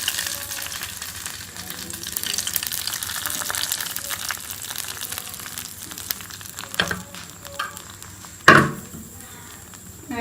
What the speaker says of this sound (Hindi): प्याज ब्राउन हो चुके हैं, हम तड़का लगा लेंगे हलीम पे।